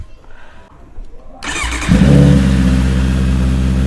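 Honda CBR650R motorcycle fitted with a LeoVince exhaust comes to life after a quiet moment, then revs up into a loud, close, sustained engine roar.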